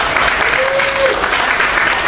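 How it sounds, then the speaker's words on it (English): A round of applause from a crowd at a live show in a VFW hall, dense and even clapping at full volume with no break. "You guys, big round of applause."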